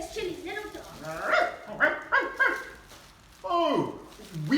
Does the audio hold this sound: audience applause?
no